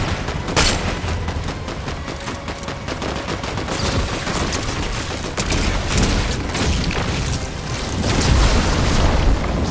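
Gunfire rattles in a Fortnite match, dense bursts of shots and booms that keep up steadily and grow heavier toward the end, loud and with no talk over it.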